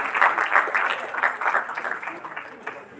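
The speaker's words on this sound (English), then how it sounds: "Can I have a huge round of applause, please?" Audience applause at a live dental college event, a steady patter of many hands clapping for about three seconds, moderately loud and fairly close, with some crowd noise mixed in.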